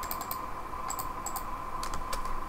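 Close computer keyboard typing: a few quick bursts of light key clicks with short gaps between them over a faint steady hum.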